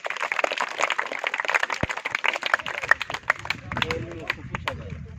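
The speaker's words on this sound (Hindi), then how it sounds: "ताली।" Students clap in a school classroom during a quiz, a steady patter of many hands applauding together for several seconds before it thins out.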